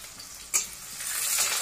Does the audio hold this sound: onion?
yes